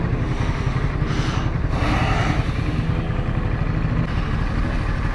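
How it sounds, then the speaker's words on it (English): Motorbikes and drift cars at a UK drift academy track day produce a constant dense roar of engines, with swells of revving and passing machines layered over a steady rumble. "we have a track day going on with the motorbikes, and we have drift cars playing in there"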